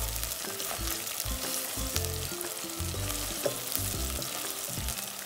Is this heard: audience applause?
no